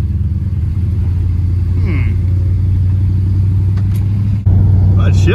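1967 Dodge Charger with a 383 big-block V8 driving and shifting, heard from inside the car: a loud, steady low engine drone with a brief dip and jump in level at a gear change, and someone talking over it.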